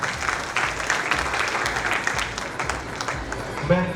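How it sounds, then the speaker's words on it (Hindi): Loud applause from an audience at a school Mother's Day celebration, a continuous dense roar of clapping with some crowd voices mixed in. "एक बार जोरदार तालियां हो जाए।"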